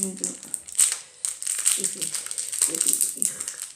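Crinkling and crumpling of plastic, with bursts of rustling and tearing over a few seconds, interrupted briefly by someone speaking.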